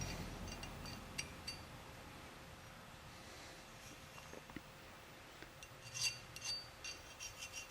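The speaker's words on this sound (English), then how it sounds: "Just a nothing file, and you're filing over the top of it, not trying to remove any metal, just feeling for any burrs." A hand file scrapes lightly and intermittently over 426 Hemi connecting rods, producing faint, close rasping strokes with a few small metallic clinks in a quiet workshop.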